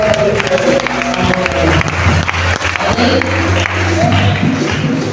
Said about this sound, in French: Est-ce qu'on peut donner des acclamations et de gloire de Seigneur?